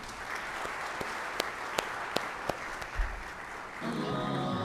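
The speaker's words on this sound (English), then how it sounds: "please give a big round of applause for all these scholars" Audience applause after a dinner event honouring scholars, a steady broadband patter of many hands with a few sharper claps standing out, ending as the clapping tapers and a low rumble comes in.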